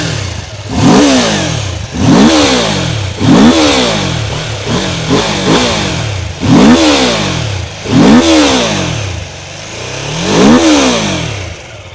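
A BMW F450GS motorcycle engine revved repeatedly from idle, about nine loud rising-and-falling throttle blips in a steady rhythm, each surging up and then dropping back, recorded up close.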